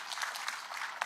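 An audience at a public security meeting in Siaya Town, Kenya applauds: a faint, dense patter of many hands clapping continuously, with a slightly louder burst near the end.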